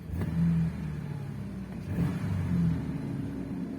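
A car parked nose-up on a slope has its engine revved a couple of times to purge air bubbles from the coolant, giving a mid-pitched engine rumble that swells twice in short revs, fairly close with no talk.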